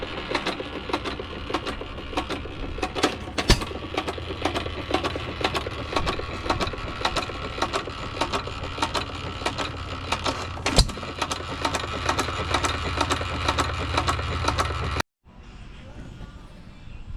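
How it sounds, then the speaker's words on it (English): An old stationary engine runs up close with a steady, rapid mechanical chugging and a few sharper knocks, then cuts to a quieter, duller sound near the end. "Engine number 2 up and running."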